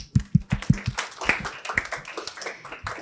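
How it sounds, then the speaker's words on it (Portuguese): Audience at a Brazilian financial education talk gives a short round of applause: a few sharp, close hand claps at the start, then lighter scattered clapping that tapers off. "Palmas para ele."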